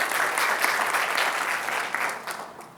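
An audience applauds at an accountants' event welcoming a speaker, dense steady clapping that gradually fades toward the end, with no talk over it.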